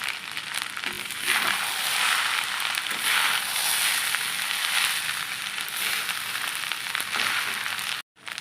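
Leftover cooked rice fries in a pan, a loud, steady close-up sizzle and crackle that holds with little change before cutting out briefly near the end.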